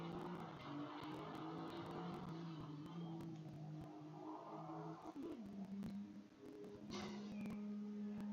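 Race car in Assetto Corsa Competizione spinning out on track: steady engine drone with tonal whine, a brief dip and skid around the middle, then a sharp burst and renewed engine tone, no talk.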